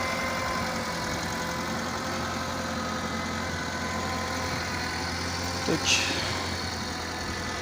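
A VW Golf 4 with a 1.4 16v engine, fitted after an engine swap, idles with a steady, faint, low hum, and a short spoken word is heard over it near the end.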